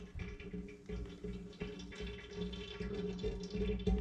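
Oil drips and trickles from a Lamborghini Murcielago during an oil change, a quiet, continuous liquid splatter with soft irregular drops and workshop background noise.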